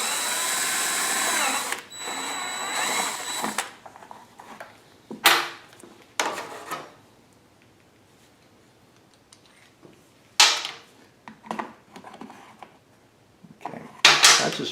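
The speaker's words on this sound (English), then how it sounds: "that's as far as I want to go with the step drill" Step drill cutting a hole during a fuel kit install on a Wen 4800 generator, heard as a few short, loud bursts of drilling separated by quiet gaps.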